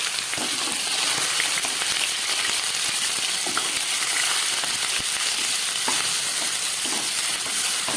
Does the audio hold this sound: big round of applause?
no